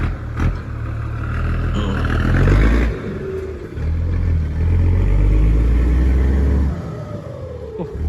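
Diesel engine of a big green Fuso truck moving a trailer, loud close rumbling that revs up in surges, dips briefly, then revs again, with some clatter and no talk.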